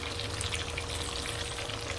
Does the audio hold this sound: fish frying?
yes